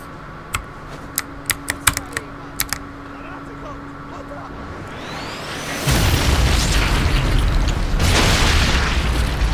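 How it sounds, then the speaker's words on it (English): A grenade in Sniper Elite Resistance goes off with a loud, heavy boom that rumbles on for several seconds, preceded by a handful of sharp keyboard clicks. "Just test out a grenade because I haven't done that yet."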